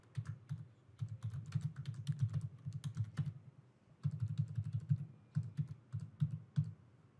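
Rapid typing on a computer keyboard while entering test card details at a checkout, a dense run of clicky keystrokes with a brief pause midway, close and steady.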